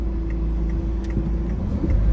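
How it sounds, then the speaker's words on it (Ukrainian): A car passes by on a street in Bavaria, giving a steady low engine rumble and tyre noise close by that swells slightly toward the end, with no talking over it. "Почекай, почекай, машина йде."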